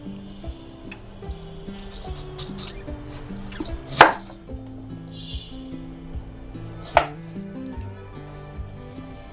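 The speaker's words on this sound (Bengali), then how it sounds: "প্রথম আমি কিউব করে কেটে নেব।" Knife chopping raw mango into cubes on a board, a run of soft irregular taps with two sharper louder knocks, close and without talk.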